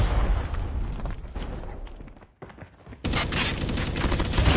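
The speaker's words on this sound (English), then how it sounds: "It's a grenade." A grenade goes off in a Call of Duty multiplayer match, a loud boom amid dense gunfire that briefly drops away before a second burst of heavy blasts and shooting resumes, close and loud throughout.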